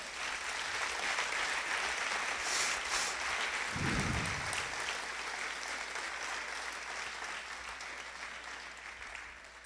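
A congregation at a church service applauds, a loud burst of clapping that swells and then slowly fades, with no voices over it.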